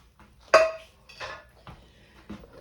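Half a purple onion, cut up, set into a slow cooker pot on top of a pot roast: a few sparse, close clinks and knocks of ceramic and utensil with quiet gaps between them.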